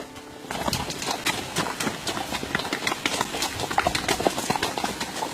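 A horse named Tank clip-clops at a steady, unhurried pace on a trail ride, its hoofbeats close and continuous over faint background noise.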